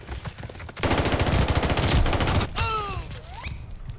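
Rapid automatic gunfire in a Call of Duty: Vanguard team deathmatch on the Hotel Royal map, a loud, close, sustained burst of shots followed by a whooshing, whistling in-game effect.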